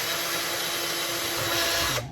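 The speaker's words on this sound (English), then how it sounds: "Of course, the plastic is really easy to drill." A power drill whirs steadily while boring mounting holes in a plastic project box, a continuous close whine that winds down at the end.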